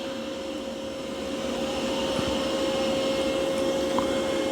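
Dreame L40 Gen 2 robot vacuum running on carpet during its first cleaning, a steady droning whir of motor and brushes, close and continuous.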